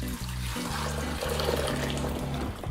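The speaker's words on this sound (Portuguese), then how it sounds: "Vou devolver a água." Water poured back into a cooking pot while preparing salt cod in a home kitchen, a close, steady splashing pour lasting a few seconds with no voices.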